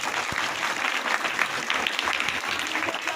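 Students in a higher secondary school hall in Harpalpur, Chhatarpur district, clap together in a loud, continuous burst of applause that stays steady throughout, with no break.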